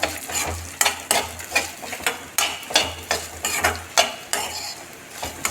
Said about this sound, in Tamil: இதையும் இதோட போட்டு வதக்கிட்டா